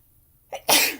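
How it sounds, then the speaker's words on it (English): A single close, explosive sneeze, preceded by a quick sharp intake of breath, in an otherwise quiet space. "I'm going to sneeze, hang on."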